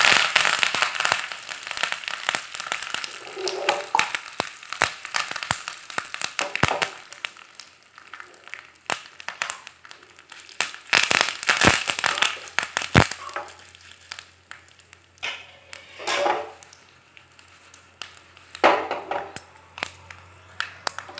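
Mustard seeds, cumin, a dried red chili and curry leaves spit and crackle in hot oil for a tempering, sharp irregular pops bursting close and loud in clusters, then thinning out with quieter gaps.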